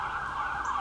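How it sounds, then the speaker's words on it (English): Emergency vehicle sirens wail steadily as they pass by, a loud continuous tone heard alone. "Oh, there's a lot of sirens going by."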